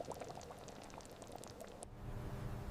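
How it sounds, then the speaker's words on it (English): Thick caramel bubbling and boiling in a Snickers candy factory, a dense wash of small pops and liquid churning at steady moderate level, shifting to a lower rumbling roar near the end. "As water boils off, the caramel thickens, turning into the sticky layer you recognize."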